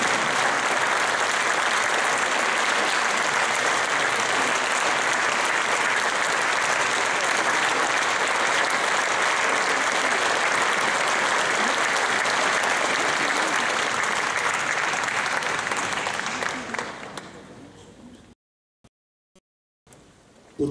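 Concert audience applauding a band at an anniversary concert in Brindisi, sustained loud clapping that fades out and stops near the end.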